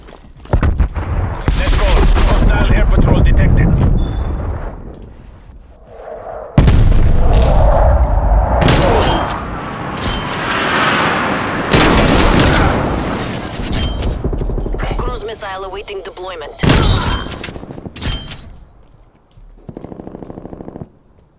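Rapid gunfire and booming blasts from a hostile sentry turret in a live-streamed shooter game fill the scene in loud bursts, with intermittent talk over the combat.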